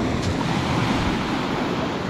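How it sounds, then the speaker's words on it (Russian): Small sea waves break on the shore at Lazarevskoye in a continuous, close wash of surf, with wind noise rushing over the microphone throughout. "Вот волна небольшая. Вот вторая, смотрите. Красивая волна."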